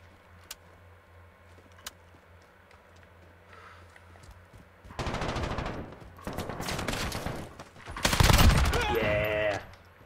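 Automatic gunfire bursts from a Modern Warfare beta Domination match, quiet at first with a few isolated shots, then loud sustained volleys and a heavy blast near the end, dense and close.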